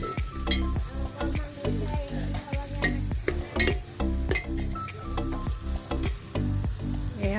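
Chopped onions and raisins sizzle while frying in a pan for pulao, a continuous crackling hiss broken by repeated scraping and clinking strokes of stirring, close and clear with no talk.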